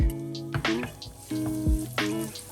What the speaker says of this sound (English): When oil is hot, I add chopped garlic.